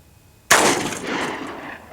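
A single loud blast from the choke barrel of an old, damaged double-barrel shotgun, starting sharply and fading into a rumbling outdoor echo.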